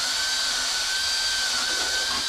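Power drill boring a hole in a wooden birdhouse with a large bit, a continuous loud motor whine with a steady high tone and grinding texture, close and without talk.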